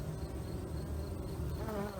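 A dense, steady drone of honeybees buzzing inside a Layens hive fitted with screwed-in Langstroth deep and medium frames, close and continuous with no pauses.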